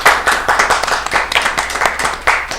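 Clapping from a small audience welcoming the first-year coaches of Greene before a school team match against Elmira Southside, with close, sharp individual claps in a quick, uneven patter over a few seconds.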